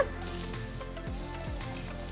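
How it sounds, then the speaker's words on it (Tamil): Onion and bell pepper chunks sizzle in a hot pan over medium flame, a steady crackling fry with soft stirring scrapes, fairly quiet and close, no voices. "5 நிமிஷத்துக்கு மீடியம் ஃப்ளேமில் காய்கறிகளை வதக்குங்க"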